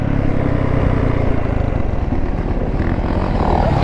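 A 2024 Yamaha YZ450 dirt bike engine roars loud and close at steady high revs, a thick continuous drone with no break for the whole stretch.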